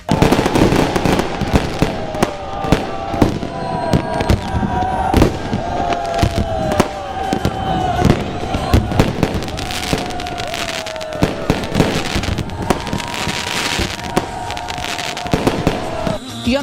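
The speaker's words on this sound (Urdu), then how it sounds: "کراچی، لاہور، اسلام آباد اور ملتان سمیت ملک کے کونے کونے میں آتش بازی۔" Fireworks burst across a Pakistani city during Independence Day celebrations, a dense run of sharp bangs and crackles firing continuously over a steady crowd murmur, with a tonal whistle threading through and no pauses.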